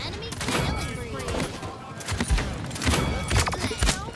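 Rapid gunfire in the Paladins video game crackles in quick bursts with sharp thumping impacts, loud and close, mixed with other game effects and a voice talking over it.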